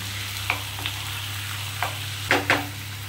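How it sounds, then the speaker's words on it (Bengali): Chicken pieces for curd chicken fry in a pan under a steady hiss, with a few sharp scrapes and knocks as a spatula stirs them. "চিকেনটা দেওয়ার পর একটু বাড়িয়ে বাড়িয়েই আমি নাড়বো কিছুক্ষণ"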